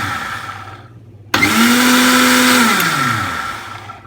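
A blender whips homemade mayonnaise with vinegar, starting abruptly loud and holding a steady whirring motor drone whose pitch sags slightly near the end as it winds down.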